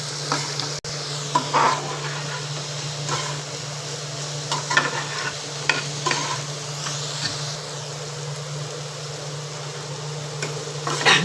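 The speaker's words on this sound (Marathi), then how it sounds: "कांदा लालसर होईपर्यंत आपण तो परतून घेऊ" Onion sautéed in a pan until reddish, for a Malvani-style okra dish: a steady, soft sizzle with a low constant hum beneath, broken by repeated light scrapes and taps of stirring.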